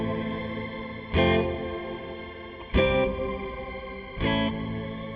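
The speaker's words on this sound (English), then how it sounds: "we get to our shimmer effect" Three guitar strums played through the shimmer reverb effect on an M-Vave Blackbox, each loud attack blooming into a bright, octave-shimmering wash that sustains and overlaps into the next.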